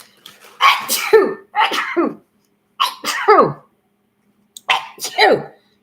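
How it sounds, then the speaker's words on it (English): Several sharp sneezes come in quick pairs, close and loud, separated by short silences. "Ooh, I gotta sneeze"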